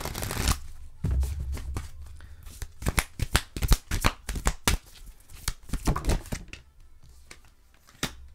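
Oracle cards are shuffled by hand in a series of quick riffling bursts and sharp slaps, the crisp card-on-card clatter coming in uneven clusters with brief pauses between.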